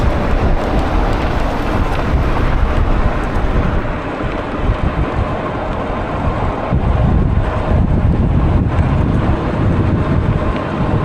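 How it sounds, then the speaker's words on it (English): Loud, gusty wind buffets the microphone during an e-bike commute, a continuous heavy roaring rumble that rises and falls and drowns out other sound. "this wind is kind of sucking right now"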